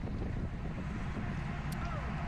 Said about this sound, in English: The wind is somewhat in your face in this section